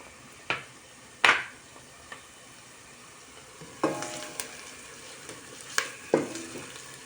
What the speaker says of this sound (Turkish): Soğanlarım güzel güzel kavruluyor.